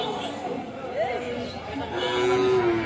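A young bull of local breed gives a short moo at a cattle market, with crowd chatter and voices around it.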